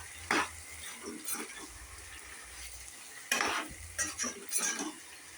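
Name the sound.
stirring curd into vegetable rice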